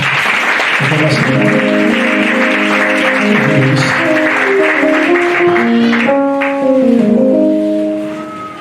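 A church congregation applauds to welcome the deacon, with steady, full clapping running throughout over sustained keyboard or organ chords that fade toward the end.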